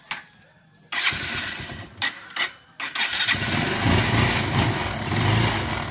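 A Kawasaki Rouser 180 motorcycle engine cranks in short bursts, then catches and settles into a loud, steady idle close by, with faint talk underneath.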